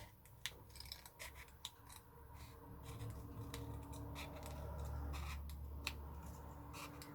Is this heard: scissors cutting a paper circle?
yes